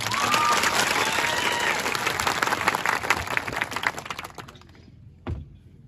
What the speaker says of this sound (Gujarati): આપણે એકવાર જોરદાર તાળીઓ પાડી લઈએ